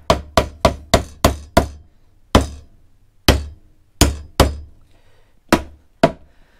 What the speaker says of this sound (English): So we're going to just take my hammer here.